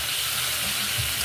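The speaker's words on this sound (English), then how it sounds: "So the chicken frying." Chicken frying in hot oil gives a bright, constant sizzle and hiss, close and fairly loud, steady through a brief moment with faint low rumbling underneath.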